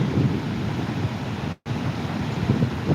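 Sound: flooded Manjara river water

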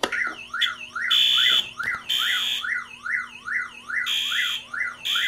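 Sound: Directed Electronics 514N soft chirp siren beeping

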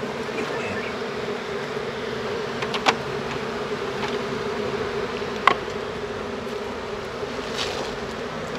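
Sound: honeybees buzzing at an apiary hive

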